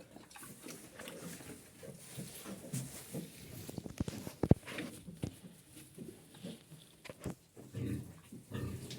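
Low snorting grunts from pigs come and go in irregular bursts, with scattered clatter and a few sharp knocks nearby.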